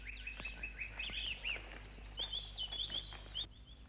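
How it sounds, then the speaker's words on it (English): Many birds sing together in a May dawn chorus at an outdoor spot where summer migrants have arrived, with high chirps, trills and whistled phrases overlapping continuously at moderate distance over a steady low hum. "The first fortnight in May, when the summer migrants have arrived, is the best season for the dawn chorus."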